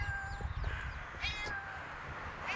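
Several outdoor cats, including a big black one, meow at a morning feeding: a few faint, rising and falling meows over low rumbling background noise.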